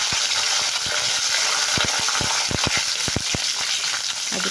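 Curry leaves fry in hot oil in a pan for a South Indian greens stir-fry, a steady dense crackling sizzle with a few sharp pops and spoon taps, close and without talk.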